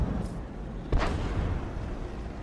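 A single SU-14-2 self-propelled artillery shot in the World of Tanks video game, one short sharp boom about a second in, then a faint decaying rumble over quiet game ambience.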